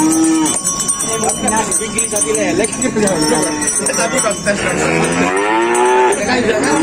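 Several contest cattle moo loudly and repeatedly at the Gondanglegi livestock market, long drawn-out calls overlapping amid crowd noise and voices nearby.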